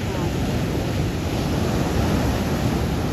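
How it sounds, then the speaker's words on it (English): Fierce ocean waves on New Zealand's South Island make a loud, continuous roar of surf mixed with heavy wind buffeting the microphone. "those are some fierce oh. waves"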